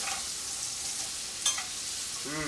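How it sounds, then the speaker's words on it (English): Soft shell crabs sautéing in a pan, a steady bright sizzle throughout, with a brief scrape as a spatula flips them. "I'm just going to grab my spatula, give it a quick turn."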